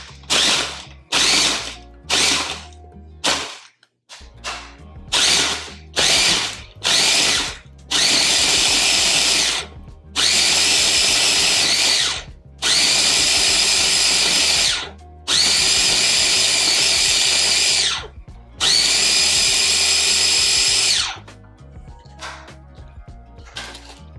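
Food processor grinding in about nine bursts: several short pulses first, then four long, loud whirring runs of a few seconds each, separated by brief pauses, with no talking over them.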